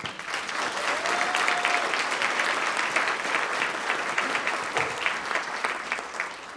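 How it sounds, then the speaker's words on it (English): Breakfast audience at a city's state-of-the-city address gives a round of applause, a steady wash of many hands clapping, moderately distant, lasting throughout with a brief whistle early on. "So I want to give them a round of applause right now."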